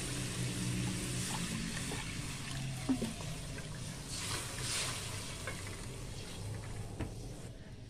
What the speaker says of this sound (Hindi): 1 से 2 मिनट तक भूनने के बाद अब इसमें थोड़ा सा पानी शामिल करेंगे।